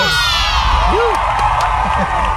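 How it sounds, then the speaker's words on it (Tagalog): Cheering and whooping from a small group celebrating the last day of CNA nursing clinicals, loud and close, with shouts and voices over the crowd noise throughout. "palakpak naman dyan mga bap"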